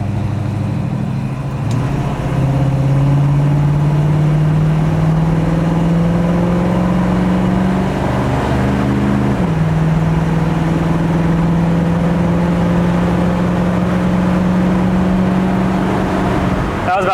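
A 1965 Ford Mustang Fastback engine pulling steadily while driving, loud and close with a rising drone that drops at a gear change and climbs again.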